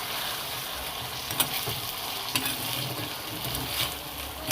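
Fish frying in a pan in a home kitchen, a steady close hiss and sizzle with occasional crackles and pops, no voices.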